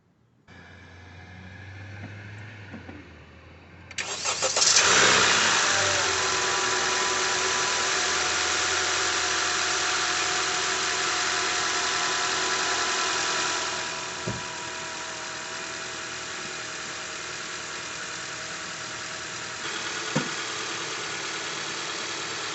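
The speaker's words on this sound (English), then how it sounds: "Let me start the car." A Honda Civic or Accord engine, just fitted with a new serpentine belt, cranks briefly and catches. It settles into a loud, steady idle that eases slightly partway through, with a couple of faint knocks.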